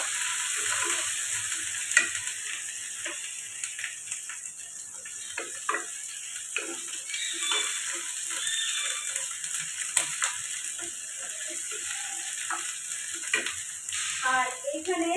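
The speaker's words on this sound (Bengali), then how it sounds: "আর দিলাম পেঁয়াজ। এটা কিন্তু খুব বেশি ফ্রাই করবো না, জাস্ট একটু নেড়ে নেবো।" Onion and carrot are briefly fried in a pan with a soft, steady sizzle, broken by frequent scraping and tapping as a utensil stirs them. The sound is close and fairly quiet throughout.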